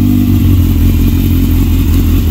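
A 2001 Yamaha YZF600R Thundercat with a Yoshimura exhaust and choke pulled runs just after starting, a loud, close, deep steady idle rumble filling the short moment with no talk.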